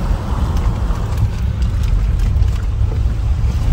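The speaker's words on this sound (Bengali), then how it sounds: "জল বইছে" A mountain stream rushes steadily across a road water crossing on a trip through Darma Valley, Uttarakhand, a loud, dense, continuous wash of flowing water with no pauses.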